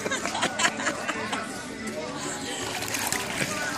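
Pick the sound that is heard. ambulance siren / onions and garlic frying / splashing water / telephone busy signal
splashing water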